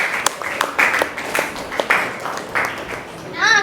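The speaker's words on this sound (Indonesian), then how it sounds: "Tepuk tangan buat kelompok 3." Pupils in a classroom clapping for a group of classmates, a short burst of scattered claps close by with voices talking through it.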